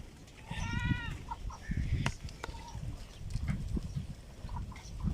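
A goat at a livestock market gives one clear wavering bleat near the start, then shorter muffled calls amid low rumbling background noise and brief knocks, fairly faint overall.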